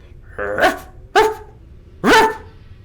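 Three sharp dog barks, loud and close, spaced about a second apart, with brief quiet gaps between them.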